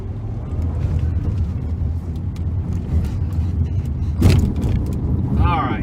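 A 2007 VW Rabbit's engine rumbles steadily from inside the cabin while accelerating, the road noise building slightly, with a brief rattle or jingle near the end.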